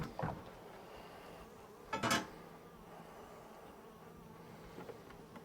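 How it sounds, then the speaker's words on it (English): Agitated honey bees hum around a hive during a swarm catch, separated from their queen, a faint steady drone close by, broken by a couple of brief knocks and clatters. "Got some grumpy bees because they're away from their queen"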